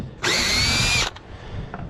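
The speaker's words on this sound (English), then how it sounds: "I've got to go get a screw gun now to separate these." A screw gun whirs loudly for about a second at high speed, then cuts off, followed by a faint brief tap.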